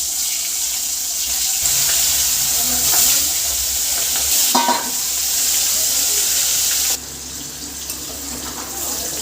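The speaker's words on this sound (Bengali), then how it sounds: "তেল গরম হয়ে গেছে, এবার মাছ দিয়ে দেবো।" Live singhi fish frying in hot oil for a light fish curry gives a continuous, fairly loud hissing sizzle that steps down in level near the end.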